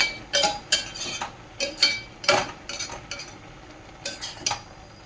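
A spoon scrapes and clinks in a pan as grated carrot and reducing milk are stirred for carrot halwa. The scrapes come close and irregular, about a dozen of them with short gaps between.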